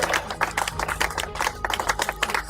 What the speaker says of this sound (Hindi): राउंड ऑफ अप्लॉज, तालियां इनके लिए, एवरीबॉडी तालियां